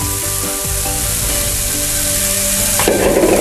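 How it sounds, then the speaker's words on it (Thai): Grated white radish (daikon) for turnip cake stir-fries in a hot pan with a loud, continuous close sizzle. A spatula scrapes and stirs through it, and a sharper burst of hissing comes near the end, with no talk. "เสร็จแล้วเราก็จะเอาหัวใช้เท้าลงไปผัดเลยนะคะเพื่อน"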